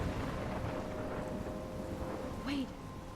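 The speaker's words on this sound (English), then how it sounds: "I'm trapped in a storm?" Stormy weather in the video game Life is Strange, with a steady roar of wind and rumbling thunder filling the whole stretch, plus a brief rising gust near the end.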